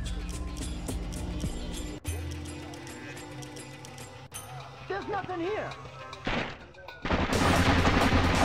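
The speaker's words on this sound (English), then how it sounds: "They did the whole firing wildly into the darkness bit." Guards fire wildly in Splinter Cell: Pandora Tomorrow, with gunshots and automatic bursts mixed into a busy game soundscape, ending in a loud sustained burst of fire.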